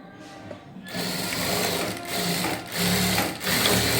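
A sewing machine stitches fabric pieces for a decorative latkan tassel, running in steady close bursts with brief pauses between seams.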